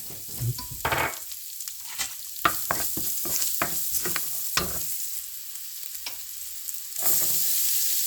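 Onion, rosemary and plenty of garlic sautéing in olive oil, with a soft sizzle broken by a series of sharp clinks and scrapes of a utensil against the pan, close by.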